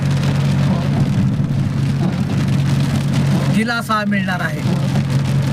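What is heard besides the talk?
heavy rain falling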